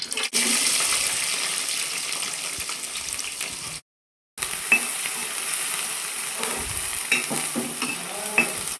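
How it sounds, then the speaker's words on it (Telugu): Onions sizzling in hot oil in a kadai, a loud continuous crackle broken by a short silence, then resuming with scattered pops and stirring scrapes. "ఇప్పుడు ఆనియన్స్ వేసుకొని ఫ్రై చేసుకుందాం."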